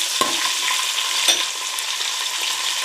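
Garlic, green chillies and curry leaves fry in hot oil for a beef fry, giving a steady bright sizzle with a couple of sharp crackles and a faint stirring scrape, close up and free of speech.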